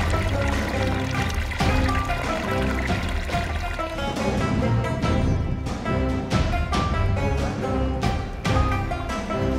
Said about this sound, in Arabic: الغطاس المي يصب مي على البركة